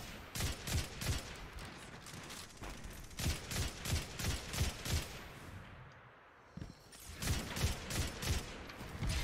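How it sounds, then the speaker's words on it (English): Turret gunfire in Destiny 2, rapid rhythmic bursts of shots repeating across the scene, fairly loud and close, with a short lull near the middle before the firing resumes. "Oh, I hear that turret."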